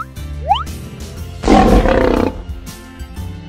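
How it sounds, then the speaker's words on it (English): A cartoon lion with a pink mane lets out one loud roar midway, set among playful children's music with quick sliding whistle-like effects before and after it. "A lion with a pink mane came out of the box."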